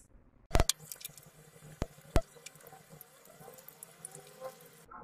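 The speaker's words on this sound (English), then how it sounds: "let's wash our hands" Hands are washed at a tap as water patters and splashes in a sink, broken by a few sharp clacks and knocks and ending with the flow cut off.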